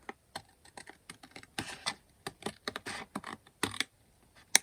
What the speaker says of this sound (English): So I can cut this again with my scissors or with a knife, but I'll just go in with scissors.